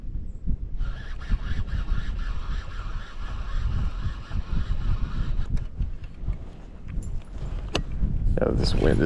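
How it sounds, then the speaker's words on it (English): Wind buffets a microphone outdoors beside a secluded pond, a continuous loud rumbling roar that runs the whole time, with a brighter gust near the end. "this wind is blowing me something fierce"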